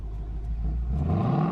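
A 2019 Ford Mustang GT Performance Pack 1 V8 revs up briefly, a steady deep rumble rising in pitch, heard close and fairly loud with no talking.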